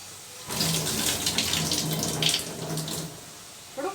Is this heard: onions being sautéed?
no